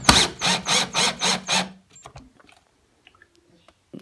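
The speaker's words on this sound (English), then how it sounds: "just drill it in," A power drill drives a screw into a toilet paper holder during installation, giving about five close, loud pulsed bursts of whirring in quick succession before stopping, followed by faint handling noises.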